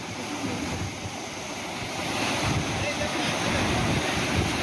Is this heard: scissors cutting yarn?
no